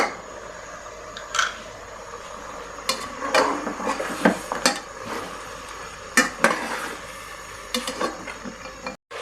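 Mutton roasting in a pot with cinnamon and salt, stirred with repeated scraping and clattering strokes of a spoon against the pot over a low sizzle, close and steady with no talk.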